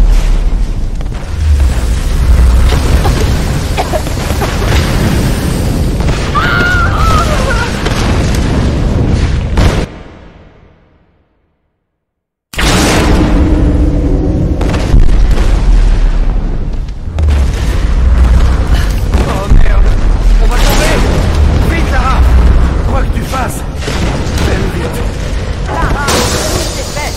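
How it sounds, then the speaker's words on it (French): A deep booming explosion rumbles in the video game Tomb Raider: Definitive Edition, loud and sustained with crackling debris, cutting to brief silence before the heavy roar resumes. "Explosion."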